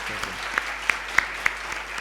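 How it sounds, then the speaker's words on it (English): An audience applauds a speaker at a conference on Indian industry and innovation, steady moderately loud clapping with a few sharper claps standing out near the front. "A big round of applause for Dr. Somanath and"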